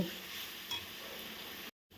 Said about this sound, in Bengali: তো আমি এইভাবে এখন কষিয়ে নেব।